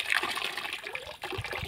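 Water falling from a pipe at a home, a steady close splashing trickle with small gurgling surges, alone.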